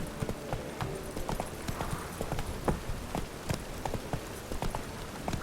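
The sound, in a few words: horse (Roach) running, hooves clip-clopping in a video game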